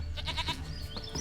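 A goat bleats in the video game The Witcher 3: Wild Hunt, a quick series of wavering, nasal calls up close, followed by quieter ambient game sounds.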